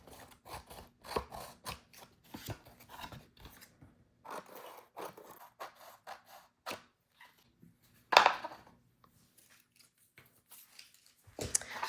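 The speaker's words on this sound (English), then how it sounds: "I'm just going to trim around my edges" Scissors snip around paper edges in short, quiet bursts, irregular clusters of crisp cuts with pauses between, one louder snip partway through, close and alone without talk.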